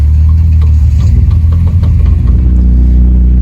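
A Honda race car drives at Anglesey circuit toward the assembly area, its engine a loud, steady, close drone with slight rises in revs throughout.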